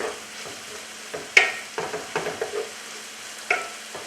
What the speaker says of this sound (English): We're going to add our fresh parsley, mix that in.